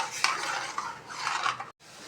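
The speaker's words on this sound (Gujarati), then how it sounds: "થોડું ગરમ થાય ત્યાં સુધી આપણે મિક્સ કરતા રહીશું" Spoon scraping and stirring heated buttermilk in a metal pot, steady soft scraping with light clinks of utensil against the pot, close and continuous before a brief pause.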